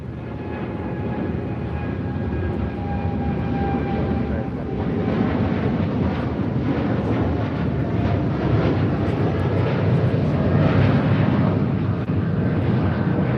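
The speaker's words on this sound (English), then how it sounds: "we got that United Dreamliner now rolling down" A United Boeing 787 Dreamliner rolls for takeoff on runway 25 right at LAX, its engines building into a loud, broad jet roar that swells steadily as it accelerates, with faint talk underneath.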